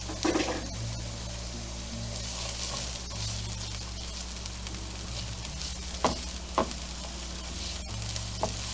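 Shallots sizzle steadily in olive oil in a pan, a continuous close frying hiss with a few light stirring scrapes and clicks and no voices.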